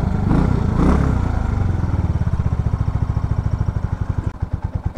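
An RPS Condor 150cc motorcycle engine settles from a brief rev into a low, slightly uneven idle with a steady loud putter, heard close with no talking.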